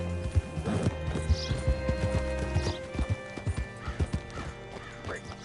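Horse hooves clip-clop steadily on the ground in Red Dead Redemption 2, close and moderately loud, with a short whinny and light clatter over a low ambient hum.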